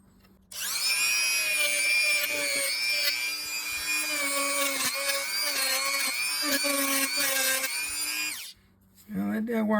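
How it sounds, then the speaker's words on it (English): A power wire wheel whirs steadily with a high, harmonic whine while cleaning corrosion off a Shakespeare SKP 15 fishing reel part, running continuously for about eight seconds before stopping. "I'm going to hit this with a wire wheel and see if we can clean that off a little bit."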